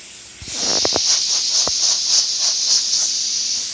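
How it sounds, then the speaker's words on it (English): A steady, strong steam hiss from a La Pavoni espresso machine's steam wand runs throughout, with a few soft clicks and knocks near the start. "we still get nice strong steam"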